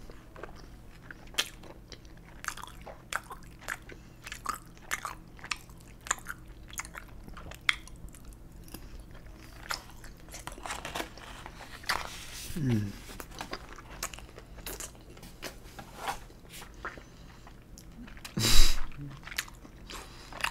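Close, crunchy biting and wet chewing of sushi and shrimp fried rice, with irregular bites, crinkling and brief soft vocal sounds between mouthfuls.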